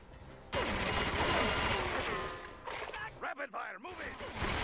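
Rapid gunfire in the 007 Agent Under Fire video game, Mediterranean Crisis mission, starts abruptly and keeps up as a dense, loud, continuous barrage with a few choppier bursts near the end.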